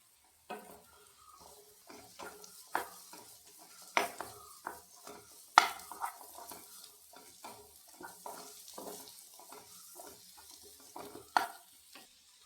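Beaten egg with salt is stirred and scrambled in a pan over quiet frying, with repeated spatula scrapes and taps against the metal at an uneven pace.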